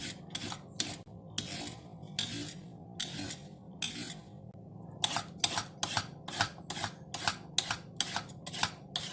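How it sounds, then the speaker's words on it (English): Quick rasping scrapes of a peeler stripping skin from carrots in a kitchen, a rapid run of short strokes, some pauses, then a steadier rhythmic series, close and fairly quiet. "Go ahead and peel these."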